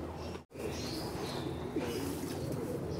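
Pigeons in a breeder's loft and aviary, steady soft cooing and faint wing rustles over a constant low ambient hum, with a brief dropout near the start and no talking.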